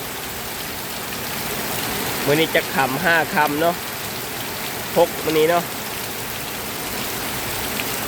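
Heavy monsoon rain pours steadily over rice fields and banana trees in rural Laos. A dense, constant hiss fills the scene, with someone speaking briefly over the downpour.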